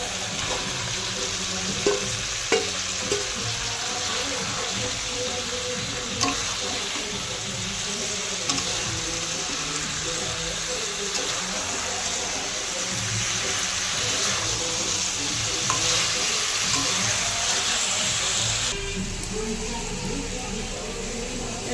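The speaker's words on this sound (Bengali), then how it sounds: "ভাজা ফুলকপিটা দিয়ে দেবো।" Fried cauliflower sizzles in spiced oil for a yogurt cauliflower dish, a steady close frying hiss broken by occasional stirring knocks and scrapes over about twenty seconds.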